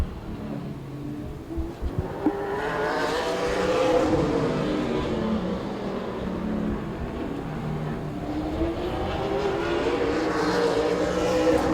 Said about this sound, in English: A couple of locals going to take the green as the next 2 cars on the speedway